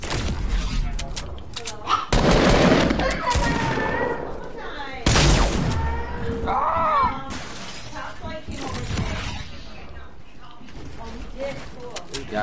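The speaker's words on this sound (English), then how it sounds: "Goddamn SMG, bro." Rapid submachine gun bursts from a PlayStation 4 shooter game ring out loud and close in several clusters, mixed with sharp impact and shattering noises, while someone talks over much of the action.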